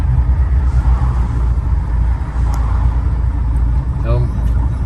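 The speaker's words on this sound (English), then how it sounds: "So, a bunch of cars coming." Several cars approach and pass on a road as heard from inside an idling 1950 Dodge Wayfarer two-door sedan, a steady low engine rumble with traffic swelling and fading nearby.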